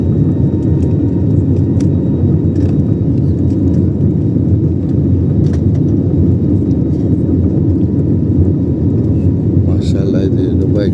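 A passenger airplane takes off from Jeddah, heard as a loud, steady low engine roar and rumble that holds throughout, with a few faint clicks on top.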